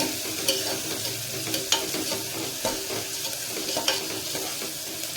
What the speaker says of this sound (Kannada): ಈಗ ಚೆನ್ನಾಗಿ ಫ್ರೈ ಆಗಲಿ